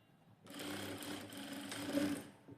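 A sewing machine runs close by while stitching a princess-cut blouse with a belt, a steady continuous whir of needle strokes that starts abruptly and keeps going, with no talk over it.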